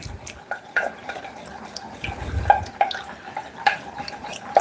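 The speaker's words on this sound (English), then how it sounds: "Best practice to use a whisk." A whisk works a sauce in a metal pan, giving repeated light clinks and scrapes against the pan in an uneven rhythm, close and fairly quiet.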